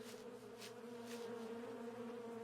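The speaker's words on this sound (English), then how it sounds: "Why do I still hear bees?" Bees trapped inside a honeycomb in the video game Eidolon give off a steady, droning buzz that holds at an even, moderate level throughout with no talking.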